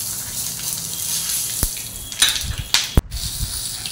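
Whole spices tempering in hot oil in a home kitchen, giving a soft steady sizzle with a few sharper pops and crackles toward the end, no talking.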